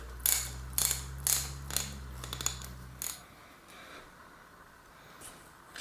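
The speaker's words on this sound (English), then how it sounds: "And then I'll just unscrew this little adjuster cap at the top" A homemade socket tool unscrews the adjuster cap atop an RST Gila Pro bicycle suspension fork, giving a series of close, sharp ratcheting clicks over a low hum that stops partway, followed by quieter faint handling noises.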